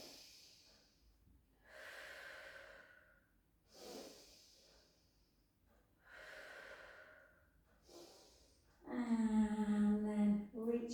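Slow, deliberate breaths in and out during a Pilates exercise, each breath a soft airy rush separated by pauses, close and fairly quiet, ending with a louder voiced exhale.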